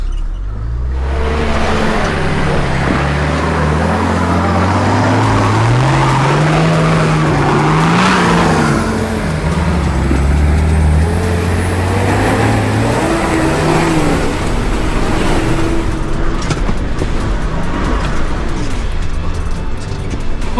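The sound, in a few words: 4x4 climbing a slippery rock track in low gear with lockers in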